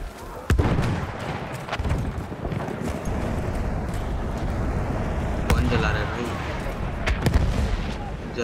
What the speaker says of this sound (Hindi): तो ये गोलियां मार रहे हैं भाग के जाना पड़ेगा